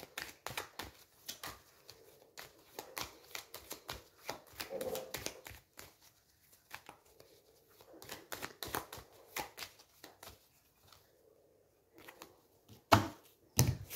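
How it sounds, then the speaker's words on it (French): Tarot cards being shuffled by hand in a quiet room, a run of soft, quick papery riffles and taps in irregular bursts, close and fairly faint, with a sharper clack near the end. "Je brasse mes cartes au Béline pour le mois de juin"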